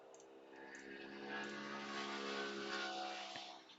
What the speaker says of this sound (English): when everyone is passing with a loud motorcycle, is so loud